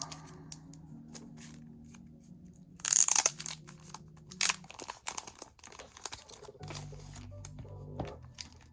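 Plastic packaging around graded trading cards is handled and opened, with close crinkling, tearing and sharp cutting sounds that come in irregular bursts, the loudest early on, with quieter rustling afterward.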